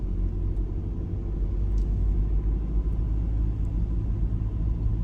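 A car drives along Guernsey's west coast road with a steady low engine rumble and road noise heard from onboard. The sound is continuous and even, with no talking.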